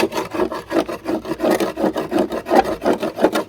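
A tool scrapes packed grass clippings out of the steel deck of a worn, cheap Walmart lawn mower: loud, close, rhythmic rasping strokes about three per second, heard alone.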